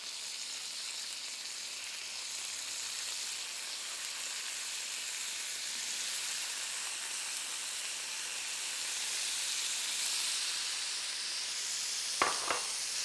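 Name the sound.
lamb cutlets sizzling on grill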